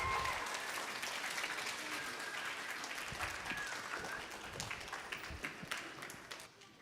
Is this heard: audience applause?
yes